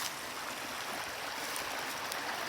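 Storm runoff flows down from a cliff beside a gun range: a steady, close, broadband rush of water with no talking over it.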